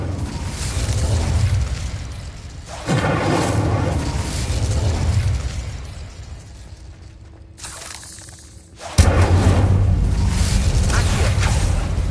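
Fire spell cast in Hogwarts Legacy: a loud burst of flame erupts with a whooshing roar, after an earlier sustained rumble and a quieter stretch, close and full.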